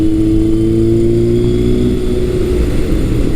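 Engine of a 1978 Kawasaki KZ1000 motorcycle pulls steadily under throttle on a test ride at about 55, giving a loud continuous mid-pitched drone with wind noise and no speech.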